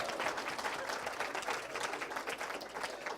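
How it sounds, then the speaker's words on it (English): Audience applause at a festival opening, brief, dense clapping rolling continuously at a modest level with no voice over it. "Give him a round of applause"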